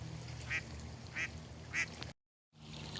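Ducks on shallow water give three evenly spaced single quacks, moderately close over a quiet low hum, then a brief cut to silence before the ambience returns.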